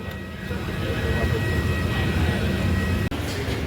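Steady, loud broadband rumble fills an airliner cabin just after landing at Chennai airport, continuous throughout with one brief dropout near the end.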